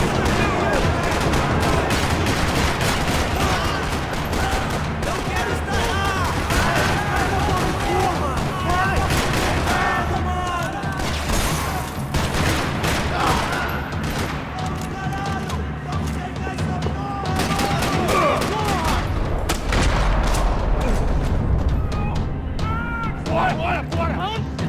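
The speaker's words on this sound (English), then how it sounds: "Another parking lot rattling with gunfire." Dense bursts of gunfire rattle continuously amid explosions and shouting voices in a parking lot in Max Payne 3, a chaotic, loud battle soundscape throughout.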